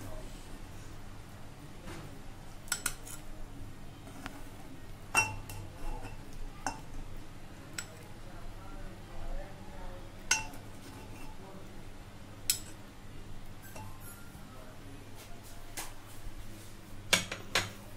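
A cooked brain dish with green cardamom and black pepper being served: scattered light clinks and taps of a metal spoon against a pan and plate recur irregularly over low background noise.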